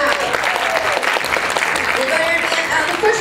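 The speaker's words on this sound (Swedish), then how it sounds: "Ja, en applåd för de finalisterna." Audience applause for classic bodybuilding finalists at a Swedish competition, steady and full for about three seconds, with a voice speaking over the clapping and some whistles.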